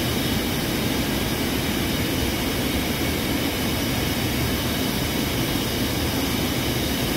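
An ultra high temperature (UHT) processing machine runs with a constant loud, dense roar and steady hum, unbroken throughout with no talking.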